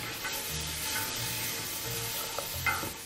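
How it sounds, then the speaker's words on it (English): Sliced celery stirred and sizzling in a hot cooking pan, a continuous steady frying hiss with soft scraping, close and alone. "How about giving that a big stir?"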